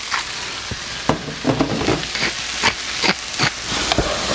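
Mushrooms and vegetables sauté in a hot pan with salt and pepper, giving a steady sizzle broken by sharp clicks and scrapes as they are stirred.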